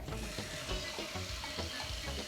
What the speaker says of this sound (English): The sizzle!